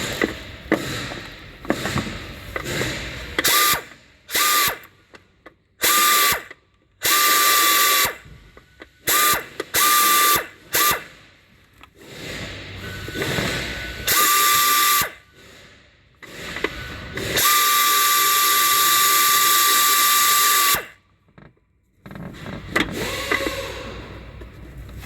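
A ratchet or power tool backing out the last bolt on a timing belt cover, repeated loud whirring and grinding bursts with short pauses between them, close up and continuous near the end.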